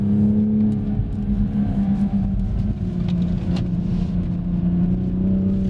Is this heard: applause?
no